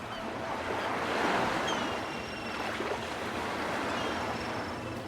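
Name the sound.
furious sea waves crashing, from the video game Mecharashi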